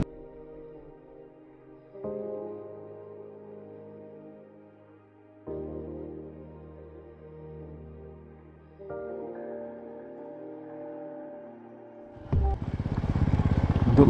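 A motorcycle ridden on a newly cut, pothole-strewn mountain road in Nepal. The engine drones steadily, and its pitch jumps up in steps with each gear change before a loud rush of wind noise takes over at the end.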